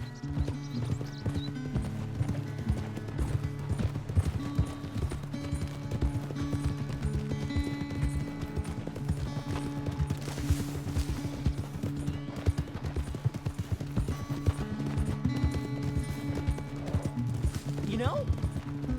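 Horse galloping in Red Dead Redemption 2, rapid rhythmic hoofbeats pounding steadily throughout under a bed of game music, with a brief whinny near the end and people talking over it.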